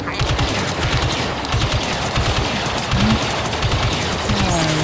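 Rapid video-game gunfire from a tank-themed multiplayer match, dense bursts of shots rattling continuously throughout, loud and up front with game effects layered over it.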